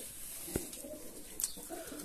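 Pigeons coo softly in a bird loft, a faint low murmur with a couple of brief sharper sounds, distant and quiet against steady background noise.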